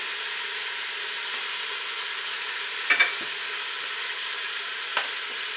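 Lebanese rice frying in a pot gives a steady, close hiss of sizzling oil, with a couple of brief scrapes and taps of a spoon stirring around three and five seconds, with no talk.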